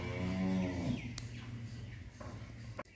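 A ten-month-old Friesian heifer calf gives one loud, drawn-out moo up close, followed by quieter farmyard sounds and a couple of sharp clicks.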